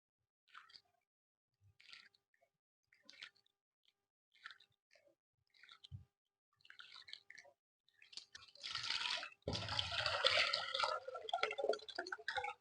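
Soaked urad dal being washed by hand to loosen the skins: sparse drips and small squishy splashes early on, then a louder burst of sloshing, rushing water near the end. Close and alone, with no talk.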